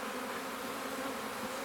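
Honeybees buzzing steadily and close around an open hive being inspected, a dense continuous hum with no pauses and no voices over it.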